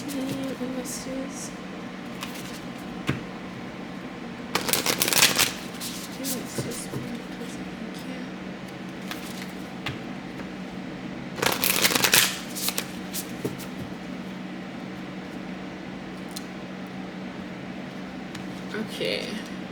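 Moonology oracle cards are shuffled in two short riffling bursts over a faint background hum, with quiet talk nearby.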